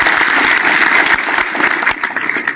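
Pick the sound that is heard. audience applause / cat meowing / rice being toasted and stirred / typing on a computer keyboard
audience applause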